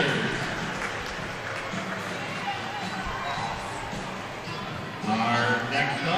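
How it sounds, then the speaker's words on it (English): Swimmers' families clap and cheer for the top girls finishers of a 50-yard freestyle at a divisional swim meet finals. The clapping is steady and echoey, mixed with crowd chatter in a loud indoor pool hall, and it grows louder near the end. "Have a round of applause for our 1200 girls 50-yard freestyle top 8 finishers."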